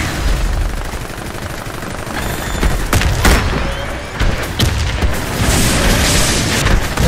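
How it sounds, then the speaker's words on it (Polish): Robot gunfire and explosions from the shooter game Warface, with dense rapid firing and heavy booming blasts in a continuous loud barrage, punctuated by sharper impacts throughout. "Tego robota ciężko uniknąć ostrzału i obrażeń zadawanych przez niego."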